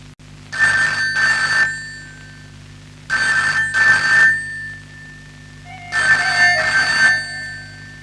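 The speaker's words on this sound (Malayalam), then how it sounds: "എത്ര നേരമായി ഫോൺ അടിക്കുന്നു, അതൊന്ന് എടുക്ക്." An old home telephone rings insistently, three double-bell bursts separated by short pauses, loud and close in a quiet room.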